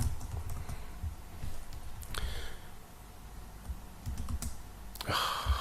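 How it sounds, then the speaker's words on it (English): Typing on a computer keyboard, close and moderately soft, in irregular bursts of key clicks with brief pauses and a louder flurry near the end, without any talk. "my typing's not so great today"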